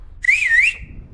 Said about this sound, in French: Si au montage tu peux mettre un sifflement à 3